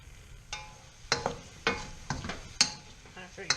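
Beancurd sticks stir-frying and turning toasty in a pan, with a run of irregular scraping and tossing bursts over a soft, steady sizzle, fairly close and with no talk.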